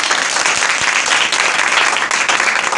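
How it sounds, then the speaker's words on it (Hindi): A church congregation breaks into loud, dense applause at a Pentecostal service, a continuous wash of clapping that fills the space throughout. "खुदा के जलाल की तालियां बजा सकते हैं।"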